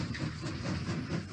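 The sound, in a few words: Thomas the Train in a Roblox scary obby video game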